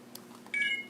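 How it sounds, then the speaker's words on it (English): An iPhone gives a single short electronic beep on being plugged into a charger, clear and close, against a quiet background with a faint click just before. "the phone automatically beeps and starts charging."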